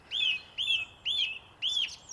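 A song thrush sings one whistled phrase four times in a row at an even rhythm, each repeat clear and fairly close against quiet outdoor background.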